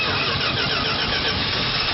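A 1971 Dodge Coronet engine, being revived after sitting, cranks steadily and fires, its mid-pitched rumble holding at a constant level close to the microphone with no speech over it.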